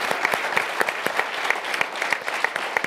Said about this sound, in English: So please, a quick round of applause for our staff.